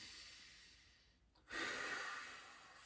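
Breathing during a lower-back stretching exercise: a soft, quiet exhale fades out, then after a brief pause a louder, airy breath swells up close and tapers off.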